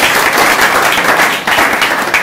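Loud, close audience clapping at the end of a mobile-phone repair training session, a dense and continuous round of applause with small surges and no talk over it.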